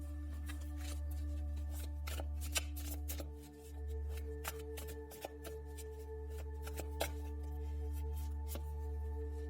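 Tarot cards are shuffled and picked for a past, present and future reading, soft close riffling and flicking in repeated bursts over a steady low background hum.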